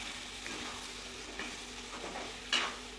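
Gongura prawn curry with green chillies being stirred in a pan: a steady, close scraping and stirring under a soft sizzle, with one sharper clink of the utensil near the end.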